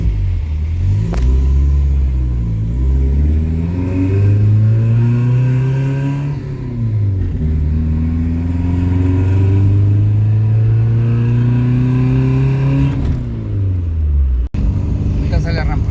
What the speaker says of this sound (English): I promise engine sounds, so here you go.